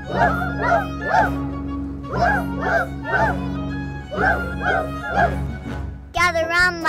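Several cartoon dogs in an animated film bark an alert in rhythmic bursts of woof-woof-woof, loud and close, with a voice imitating the barking and a brief musical flourish at the end.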